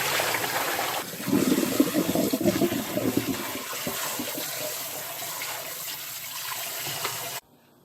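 Boiled food is rinsed under cold running water, giving a steady rush that turns louder and splashier after the first second and then flows on evenly until it stops.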